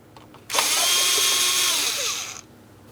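A power tool with an 8mm socket spins loose a hose clamp on a 2003-2007 Cadillac CTS 3.6L V6 throttle body, one steady close whirring run of about two seconds.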